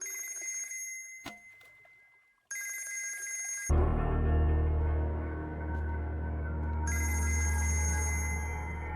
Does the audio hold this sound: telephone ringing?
yes